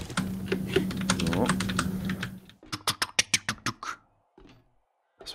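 A computer keyboard clatters loudly during a German 7 Days To Die gaming session. A dense burst of rapid keystrokes gives way to a run of distinct, separate clicks, then a few scattered taps with brief quiet gaps.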